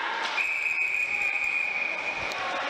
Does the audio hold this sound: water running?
no